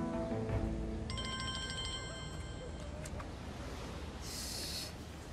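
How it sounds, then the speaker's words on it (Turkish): A mobile phone rings with a steady electronic tone for about two seconds under a busy, noisy background in a domestic scene from a Turkish TV drama. "telefonun çalıyor"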